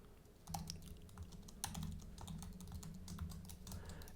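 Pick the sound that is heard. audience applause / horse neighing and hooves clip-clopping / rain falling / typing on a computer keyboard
typing on a computer keyboard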